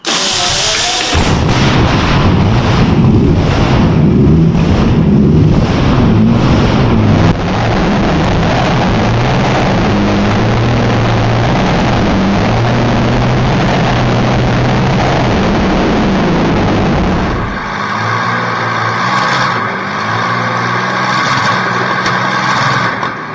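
The salvaged original engine of a restored WWII tank runs loud and steady inside a hangar, a dense continuous roar that holds throughout and then shifts to a rougher, thinner tone near the end.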